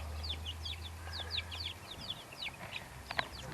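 Chickens kept as meat birds in a pen cluck in short overlapping bursts, close and fairly clear over a low steady background hum.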